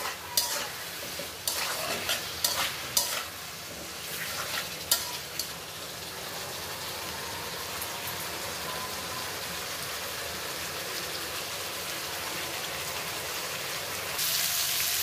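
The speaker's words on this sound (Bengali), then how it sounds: "দিয়ে মশলাটা সুন্দর করে কষিয়ে নিব।" Spice paste with green chilies sautéing in a pan for a hilsa fish curry with potatoes and pointed gourd; a spatula clatters and scrapes in the first seconds, then a steady, even sizzle continues alone.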